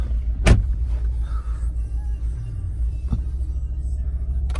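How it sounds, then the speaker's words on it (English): An Audi A3's car door shuts with a single solid thump early on, followed by a low idling engine rumble and a fainter knock later, heard from inside the car. "I'm just going to shut the door"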